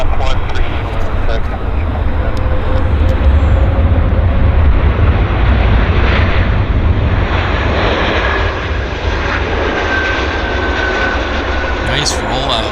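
A fixed-wing airplane rolling out after landing at Vancouver airport, a loud, continuous engine roar with broad rumbling that stays strong throughout and eases slightly toward the end.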